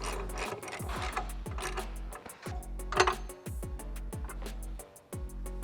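A 14 mm ratcheting wrench tightens Z1 rear differential brace bolts into the diff cover of a Nissan 350Z, producing close, rapid bursts of metallic ratchet clicks in a steady rhythm over a low continuous hum.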